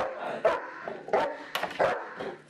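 A police K-9 dog barks repeatedly during a building search, a run of loud, close, sharp barks in an uneven rhythm with short gaps between them.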